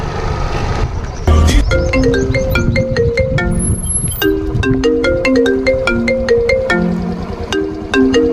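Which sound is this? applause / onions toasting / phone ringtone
phone ringtone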